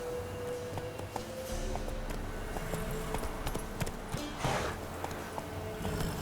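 Hooves of the horse Roach clip-clop steadily at a gallop in The Witcher 3, a fast, even rhythm that stays close and clear against a low ambient game background, with no voices.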